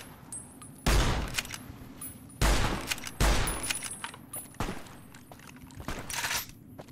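Gunfire from the video game Fallout New Vegas during a battle at the dam: several loud, sharp bursts of shots with whizzing bullets, spaced irregularly over a steady background din, no talking.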